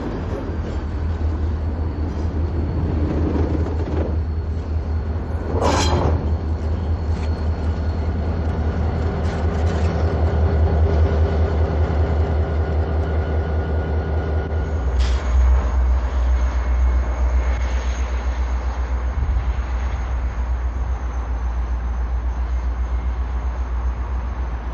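A local freight train rolls along a railroad line, a steady, loud rumble of wheels and railcars that continues throughout, with a brief squeal partway through and a thin high whine joining later.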